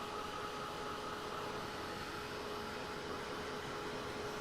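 A dryer blows on saddle soap in a workshop, giving a steady, even whoosh of airflow with a faint high whine. It carries on unchanging and fairly quiet throughout.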